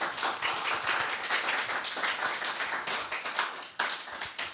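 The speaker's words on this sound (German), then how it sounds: "Ihr dürft jetzt schon mal klatschen" An audience applauds a speaker, with dense, irregular claps that continue without a break, loud and close, with no voices over them.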